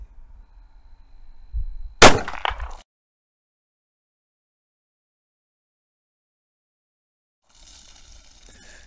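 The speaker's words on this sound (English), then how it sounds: "first shot here with the standard variation of the bone barrier." 9mm Buffalo Bore 147gr Outdoorsman round fired into a simulated bone barrier, a single sharp loud gunshot crack with a short rattling tail, then silence and faint background noise.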